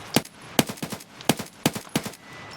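Rapid bursts of AK-103 rifle fire in the shooter game Escape From Tarkov, about six sharp reports in uneven pairs and singles, loud and close, each with a short ringing tail, no talking.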